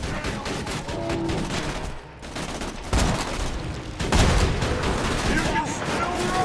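Rapid, sustained bursts of automated turret gunfire and explosions crackle in the video game Borderlands 2, loud and dense throughout with brief shifts in intensity.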